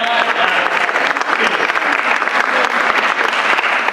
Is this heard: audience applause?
yes